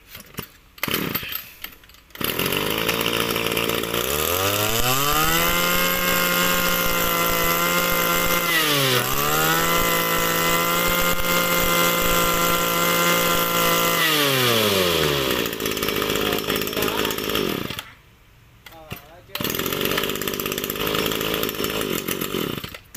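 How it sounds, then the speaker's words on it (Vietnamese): A small gasoline two-stroke chainsaw starts, then revs up to full throttle. It holds a loud, steady high-pitched whine for about ten seconds with a brief dip, drops back to idle, cuts out briefly and sputters again. There is no talking. "Từ máy cưa, cắt cỏ nó cũng giống vậy."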